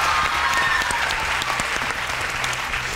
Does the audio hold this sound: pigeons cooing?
no